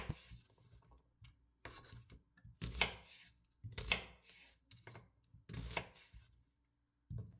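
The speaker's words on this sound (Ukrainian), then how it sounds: "Одну рібчасту цибулю чистимо та нарізаємо довільними шматочками." A ribbed onion being cut into rough pieces on a board, heard as clusters of close knife chops separated by short pauses, moderately loud, with no talk.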